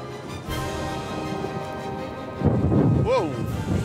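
Heavy rain hisses steadily as low thunder rumbles and swells, with a brief sharp sound near the end.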